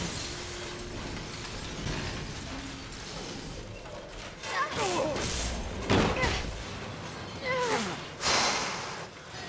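A train smashing into a building in the Resident Evil 6 video game: rumbling, noisy chaos with several heavy crashing bursts and shattering hits toward the end, while a player gasps and exclaims over it.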